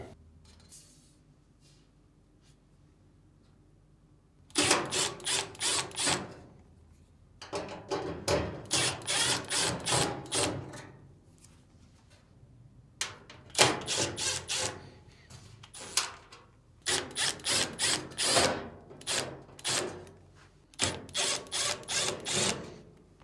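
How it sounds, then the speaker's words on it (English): A power screwdriver removes screws from the upper frame plate of a Samsung dryer, sounding as several short, loud whirring bursts separated by brief pauses. "Next, remove the screws on the upper frame plate."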